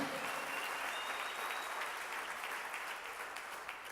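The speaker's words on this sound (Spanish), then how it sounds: "Él es ofrenda de palmas al Señor" A church congregation claps in praise during a Friday evening service, with sustained, even applause from a crowded room and no one speaking over it.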